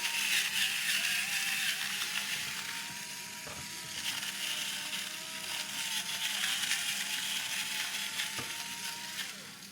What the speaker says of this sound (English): I'm just going to liberally put some Redmond's salt on this